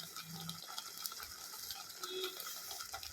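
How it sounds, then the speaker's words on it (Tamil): Ingredients for chicken donne biryani sauté in a pan, a faint, steady sizzle with soft stirring scrapes close by and no voices. "இது நல்லா வதங்கட்டும்."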